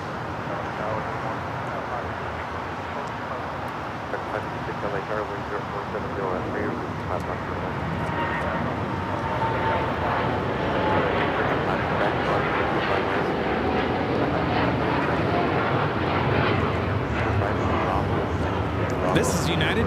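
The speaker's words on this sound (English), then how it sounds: "This is United Airlines 801 taking off to Hong Kong on the 787-9 Dreamliner." A United Airlines Boeing 787-9 Dreamliner on its takeoff roll at LAX, bound for Hong Kong, its jet roar building steadily and swelling louder in the second half while someone talks over it.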